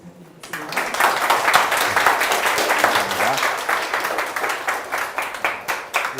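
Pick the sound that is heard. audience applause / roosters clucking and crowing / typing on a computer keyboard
audience applause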